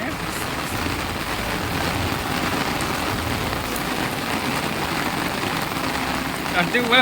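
Heavy rain pours in a dense, steady roar on surrounding surfaces, with a brief voice rising near the end.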